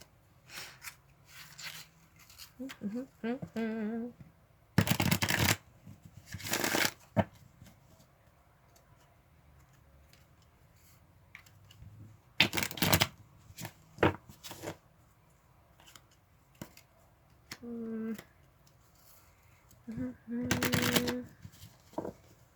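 Tarot cards being shuffled in several loud, brisk riffling bursts, close up, separated by quieter stretches with faint rustling and occasional handling sounds.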